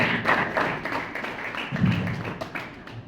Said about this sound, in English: So they need a big round of applause, people.